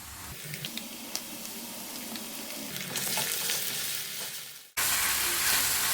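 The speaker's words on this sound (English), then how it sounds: "Fry the paste very well for 3 to 4 minutes until the oil separates" Onion, ginger and garlic paste sizzles and fries in hot oil for a Bengali rohu fish kalia, a steady close crackle with stirring scrapes that briefly cuts out, then returns louder and brighter.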